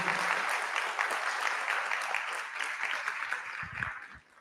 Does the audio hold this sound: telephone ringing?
no